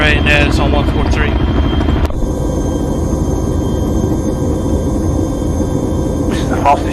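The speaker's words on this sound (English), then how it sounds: "This is the fastest Chinook I've ever known." Chinook helicopter at an air show, its loud, continuous rotor thrum and engine roar dominating close by, with people talking over it throughout.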